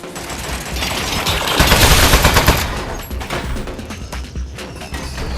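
Rapid turret gunfire in the Aperture Desk Job video game, a dense continuous burst of shots with mechanical clatter that swells loudest midway and then carries on slightly lower.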